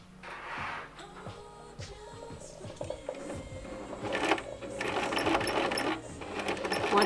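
A sewing machine starts up and runs in a steady, close mechanical whir while stitching and back-stitching fabric, and a person talks over it.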